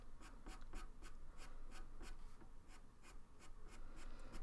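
Colored pencil scratching across paper while drawing a fox, a steady run of quick, rhythmic strokes, close and fairly quiet, with no voices.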